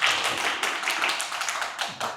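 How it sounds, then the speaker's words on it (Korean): Dense, steady applause from an audience at the opening of Inseong Park's solo exhibition, a continuous patter of many hands clapping throughout with a few sharper bursts, fairly close and with no voices. "큰 박수 부탁드립니다"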